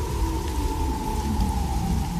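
Heavy rain pours down steadily during a thunderstorm, a dense, continuous hiss with a low rumbling undertone and no pauses or voices.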